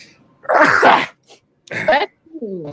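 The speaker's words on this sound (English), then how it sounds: "getting ready to sneeze" A loud, close sneeze bursts out, followed by a brief pause and then a short voiced exhale and a murmured sound.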